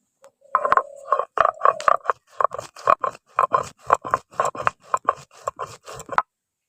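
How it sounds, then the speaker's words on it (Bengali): Whole cumin seeds are ground by hand in a Bengali kitchen, making a steady run of about twenty close, rhythmic scraping and rubbing strokes with no talking. "প্রথমে আমি জিরেটাকে বেটে নিচ্ছি"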